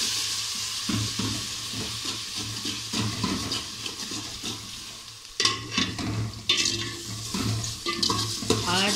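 Garlic-ginger paste frying in hot oil in a pot for chana dal, a sizzling hiss broken by stirring scrapes and clinks, growing louder and sharper in the last few seconds.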